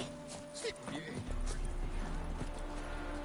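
Hoofbeats of a galloping horse in The Witcher 3 video game, a quiet rhythmic clip-clop running under game sounds, with a brief whinny-like note early on.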